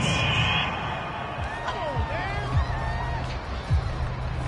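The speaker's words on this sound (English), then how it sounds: "This home crowd, they're happy with that call." Simulated home crowd in a football video game cheering a referee's flag call, a sustained roar of cheers and whoops beneath commentary voices.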